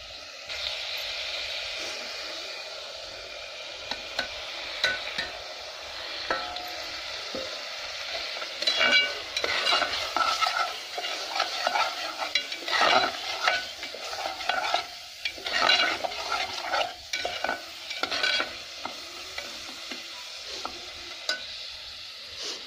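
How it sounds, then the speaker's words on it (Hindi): Masala roasting in a pan for a potato curry, a soft continuous sizzle with spatula scrapes and stirring clatter that grow busier and louder midway, no voices. "थोड़ी देर भुना जाएगा मसाले को।"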